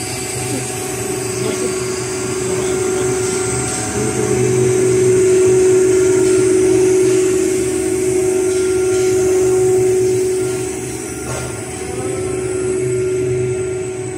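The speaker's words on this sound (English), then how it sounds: "This is double station winding machine." An HDPE pipe extrusion line with a double-station winding machine runs with a loud, steady mechanical drone and hum that swells and eases slightly over time.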